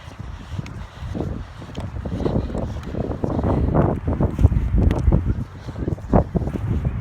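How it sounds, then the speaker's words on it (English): Strong gusty wind buffets the microphone outdoors in Haight during street activism, a rough surging low rumble that swells and eases in waves without letup. "it's fucking blowing like crazy"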